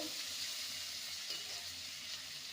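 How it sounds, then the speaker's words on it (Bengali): A chopped medium-sized onion fries in a pan, a soft, even hiss of sizzling oil that holds steady throughout, fairly quiet and with no voices. "পেঁয়াজটাকে ভেজে নেব"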